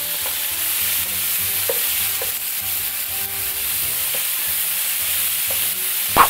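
Chuck flap steak pieces, cut into squares, fry in a pan with a steady close sizzle, broken by soft scraping and turning knocks from a utensil and a sharper clink near the end.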